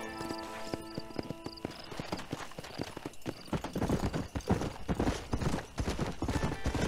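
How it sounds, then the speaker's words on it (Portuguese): Horse hooves in the Western video game Red Dead Redemption clatter in a steady clip-clop that quickens into a louder, denser gallop, with a brief whinny and ambient game music early on. "Olha lá, o cavalo acelera do nada"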